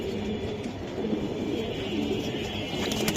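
Pigeons coo softly at a pigeon market stall selling silver Giribaz birds, a low murmuring cooing that runs steadily through the clip under a constant background rumble and chatter.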